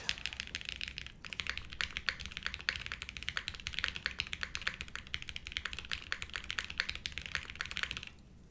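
Fast, steady typing on a Space80 Apollo mechanical keyboard, crisp close clacks in continuous bursts with a brief pause near the start, no talk.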